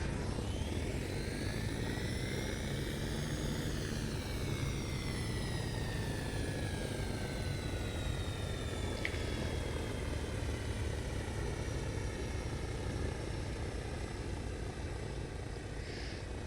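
XF14D VTOL aircraft with turbine and contra-rotating rotors running, a loud steady whine with rising and falling tonal sweeps over a constant dense roar, continuous throughout with no voices.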